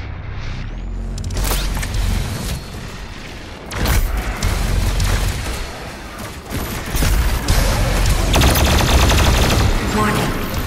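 The BFG 10,000 firing in DOOM Eternal on Mars: heavy, sustained booming blasts and rumbling mechanical roar, loud and layered, with surges around each firing and a synthetic warning voice over it.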